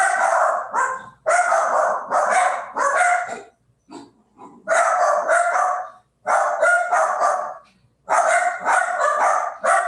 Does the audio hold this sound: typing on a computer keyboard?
no